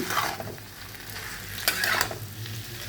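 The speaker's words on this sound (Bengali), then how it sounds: "এগুলো দিয়ে নাড়িয়ে নিচ্ছি" Ingredients stirred in a frying pan with soy sauce added, a steady sizzle under repeated scraping strokes of a spatula, close and continuous with a louder burst of stirring partway through.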